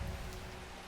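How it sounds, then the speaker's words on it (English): Steady rain falls in the game Strange Horticulture, a dense, even patter on a surface with no talking, brief and fairly close. "Also the rain."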